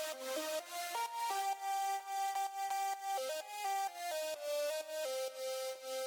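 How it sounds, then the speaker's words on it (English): Synth lead melody with a buzzy, vocoder-like tone, playing a stepping line of sustained notes over a pulsing accompaniment, steady and moderately quiet with no talk. "It sounds kind of like it's going through a vocoder or something like that."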